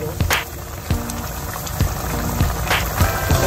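Water is added to a pot of Filipino pork menudo as it cooks; loud, close bubbling and gurgling comes in uneven pulses, with no talking.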